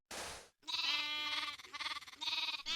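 Sheep bleating in a Minecraft modpack game, a short burst followed by a longer wavering bleat with a few pulsing calls, loud and close with no talk over it.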